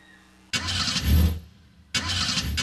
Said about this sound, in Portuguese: liga o carro aí, motor, liga o carro